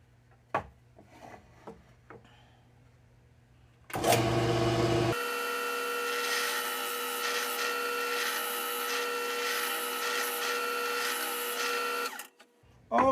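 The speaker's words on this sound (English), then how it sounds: "This is the Rocarius brand plug cutter, and I'm comparing it to what I had before." A Rocarius plug cutter bores into walnut with a steady, loud mechanical whir and grinding that runs for about eight seconds after a short burst of handling knocks, then stops abruptly.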